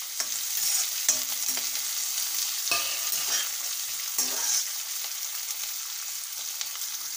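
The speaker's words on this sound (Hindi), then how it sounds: "तेल गरम हो जाने के बाद आप आधा चम्मच जीरा डालिए, फिर उसमें प्याज डाल दीजिए" Cumin seeds and chopped onion frying in hot oil, an even bright sizzle with a few sharp spoon scrapes and taps against the pan, close and without speech.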